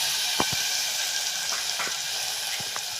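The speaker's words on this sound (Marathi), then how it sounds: "वाटाणा भाजण्यासाठी आपण अर्धा चमचा तेल घालून घेऊया. त्यानंतर वाटाणा आपण ह्याच्यात भाजून घेऊया." Green peas roasting in half a spoon of oil in a pan give a steady, soft sizzle with a broad hiss, punctuated by a few brief clicks and pops as the peas shift in the hot oil.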